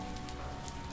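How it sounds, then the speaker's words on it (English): Steady rain pours down in a video game city scene where it is always raining, a dense, even hiss of drops on surfaces with no voices over it. "she's like sitting outside in the rain"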